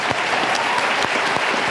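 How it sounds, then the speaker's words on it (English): An audience claps in steady applause, a dense even patter of many hands heard up close, with no voices over it. "Let's have a nice round of applause."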